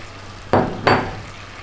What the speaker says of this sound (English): Now we're going to take our fish, we're going to drop it all in.